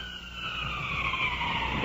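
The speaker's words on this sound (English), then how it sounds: "In the distance, the ambulance." An ambulance siren wails steadily in the distance at night. Its faint tone glides down slowly and holds continuously over a low background murmur.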